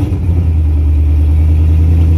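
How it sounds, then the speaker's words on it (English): A car's engine running after installation of a Tremec transmission, a loud, close, deep rumble that holds steady and continuous throughout without pauses. "We're going to start the car."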